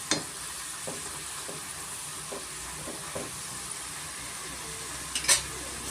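Potato fries being deep fried a second time in hot oil give a steady, soft sizzle, with light scraping taps from stirring every half second or so and a brighter clatter near the end.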